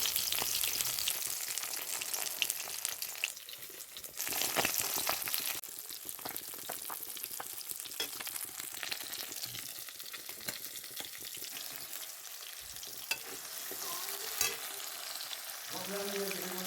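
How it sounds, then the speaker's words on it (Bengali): New potatoes frying in a pan for a Bengali fish curry: a long, even crackling sizzle that holds steady throughout, with occasional faint clatter, moderately close and without speech. "দেখো আলুগুলো আমি ভাজতে বসিয়ে দিয়েছি নতুন আলু একটু লাল করে ভেজে"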